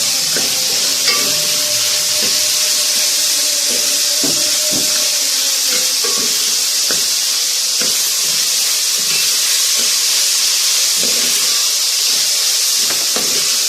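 Chopped green capsicum and mint sizzle in a hot pan with a constant loud hiss, while soft clinks and scrapes of stirring tap through the frying at irregular intervals.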